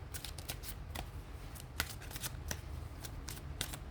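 Tarot cards shuffled and drawn by hand, a continuous papery riffle with rhythmic flicks and snaps, close and steady without talk.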